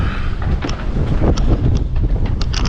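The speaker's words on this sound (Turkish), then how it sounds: "Ege Denizi'nde fırtına var." A strong wind blows during a storm on an old pier on the Aegean Sea. It roars close and loud against the microphone in a steady, buffeting rush, with occasional faint knocks.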